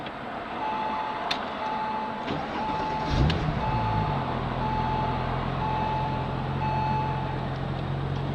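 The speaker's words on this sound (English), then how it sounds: "So I'm going to start the engine and let you take a listen to that." A 2002 Porsche 911 Twin Turbo cranks and catches about three seconds in, then settles into a low steady idle, heard from inside the car while a repeating dashboard warning chime beeps throughout.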